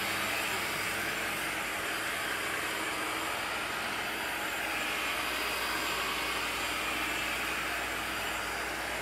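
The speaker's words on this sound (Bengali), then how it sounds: "আমি ভ্যাকিউম অন করতেছি" A household vacuum cleaner running steadily close by, a loud continuous whooshing roar with no change across the whole stretch.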